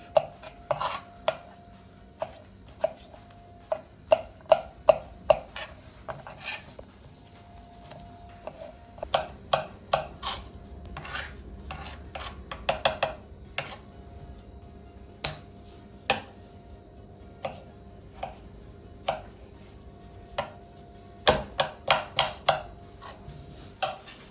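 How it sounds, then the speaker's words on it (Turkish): A knife chops potatoes into small pieces on a cutting board in quick, irregular taps, some sharper knocks standing out, close and alone against a faint room hum. "Bu şekilde ufak ufak doğramaya devam ediyoruz."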